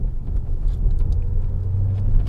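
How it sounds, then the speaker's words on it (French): A steady, low electric motor hum from a Maserati Grecale electric SUV rumbles continuously, close and fairly loud, with no voices over it. "il y a un bruit sourd, un bruit de ronron de moteur"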